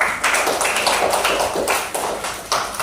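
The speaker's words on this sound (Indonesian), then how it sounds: "Oke, tepuk tangan dulu" A class of sixth-grade schoolchildren clapping their hands together, a dense, rapid patter of many close claps with a loose rhythm, steady and fairly loud throughout without talking.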